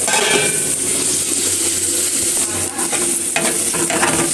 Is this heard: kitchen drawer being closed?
no